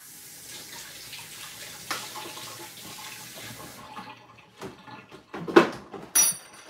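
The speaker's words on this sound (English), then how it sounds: "Wash my hands." Running tap water over hands at a kitchen sink while making homemade pasta-dough bread, a steady broadband wash for several seconds that then breaks into a few short splashes and clatters near the end.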